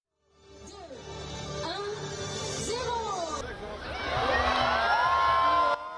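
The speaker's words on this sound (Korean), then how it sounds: "샹젤리제 거리에 일제히 환한 불빛이 켜지자 시민들의 환호가 터져나옵니다" Crowd on the Champs-Élysées in Paris cheering and whooping as the Christmas lights along the avenue switch on, a lively mix of shouts, high-pitched cries and chatter that swells louder toward the end.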